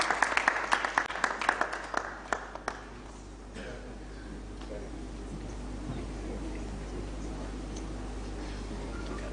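A conference audience at a diaspora homecoming convention claps for the chief guest, a burst of scattered claps in the first few seconds that thins out into room murmur and faint talk.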